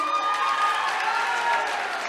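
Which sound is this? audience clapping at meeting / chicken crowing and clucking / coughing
audience clapping at meeting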